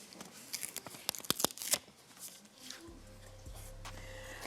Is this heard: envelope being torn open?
yes